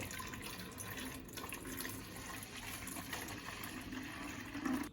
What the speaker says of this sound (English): Unscrew the cap from the bubbler jar and fill it up with distilled water.